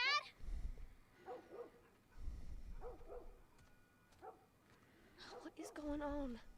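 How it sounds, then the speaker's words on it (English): Dogs bark in short bursts in the distance of a city scene in The Last of Us, with someone talking over and between the barks amid faint static. "Dogs are not happy outside."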